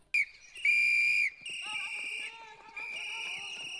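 Shrill whistle blasts, a short toot then longer sustained blows, close and piercing, with trilling tones and no talk.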